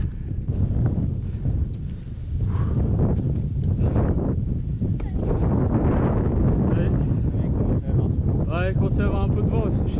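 Wind gusts hard against the microphone as riders on bikes move outdoors, a constant low rumbling buffet with the riders' voices talking over it throughout.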